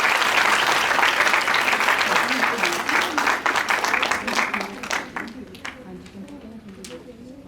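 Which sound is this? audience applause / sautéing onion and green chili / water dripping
audience applause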